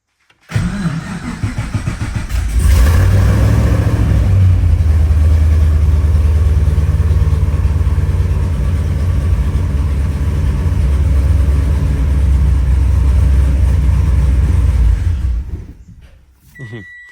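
LS3 V8 in an FRS drift car cranks and starts, then settles into a loud, deep, low idle that runs close and steady before cutting out near the end.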